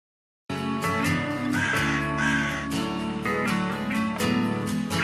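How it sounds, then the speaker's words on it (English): A crow caws repeatedly in a fan film scene based on The Crow, the harsh calls loud and close, coming in a quick irregular series over a music bed after a brief silence at the start. "I wanted to incorporate at least a moment of a crow, you know? So we put a crow in there."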